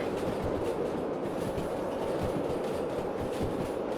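A heavy freight train in the Derail Valley simulator rolls along the track, a steady low rumble with faint rhythmic wheel thumps throughout, no voices.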